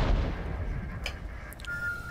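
A distant artillery boom rumbles in the video game Regiments, with a low, heavy roll that fades across the clip beneath faint battlefield noise.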